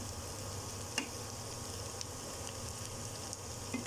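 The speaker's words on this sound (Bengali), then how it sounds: "আমি এটা খুব ভালোভাবে এপাশ ওপাশ করে একটু ভেজে নিচ্ছি, লাল লাল করে" Potato balls frying in hot oil, a steady low sizzle that runs throughout with a few faint clicks of turning, quiet and close, with no talk.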